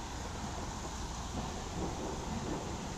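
A thunderstorm from a powerful HP supercell over Gorky Park, Moscow, roars steadily, heavy rain and low rumbling blending into a dense, continuous wash of sound with no voices.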